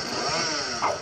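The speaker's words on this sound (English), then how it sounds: "Oh, God, he has a chainsaw." A chainsaw revs in the fighting video game Terrordrome, a buzzing, harmonic-rich engine whine held steady for about a second with a brief surge near the end.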